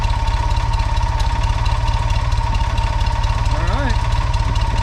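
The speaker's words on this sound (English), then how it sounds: "That alternator is kind of loud." A Volkswagen engine idles cold with a loud GM one-wire alternator fitted, a steady, close, throbbing idle pulse with a constant mechanical whine on top, while someone speaks briefly.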